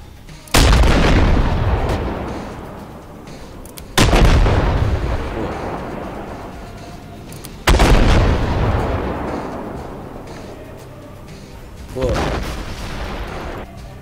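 Self-propelled artillery firing in the video game Armored Warfare: three loud, booming cannon shots a few seconds apart, each decaying slowly, followed by a fainter fourth blast near the end.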